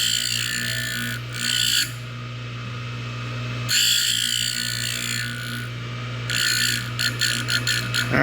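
A piston ring being ground on a ring grinder sends out several bursts of bright, loud grinding, each lasting a second or two, over a steady motor hum with pauses between passes.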